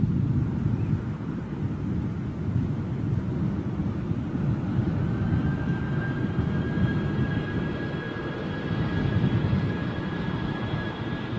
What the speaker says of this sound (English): Jumbo jet.